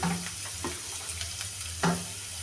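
Chopped onion and green chili dropped into a hot frying pan for red sauce pasta, giving a steady close sizzle with a couple of sharp bursts as pieces hit the oil.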